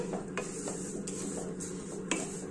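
Rice is stirred and fried with turmeric in a pan, with repeated scraping strokes of the utensil against the metal and light clinks over a soft background sizzle.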